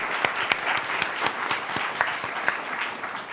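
An audience at a startup demo day applauds a CEO, continuous moderate clapping with a few sharper close claps standing out, no speech over it.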